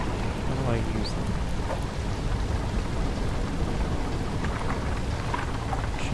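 Into Evil thunderstorm spell casting a constant wash of heavy rain with low thunder rumble underneath, loud and unbroken, with a few faint tonal blips from the game.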